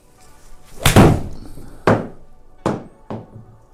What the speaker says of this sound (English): Let's hit 5 shots and see where my miss is.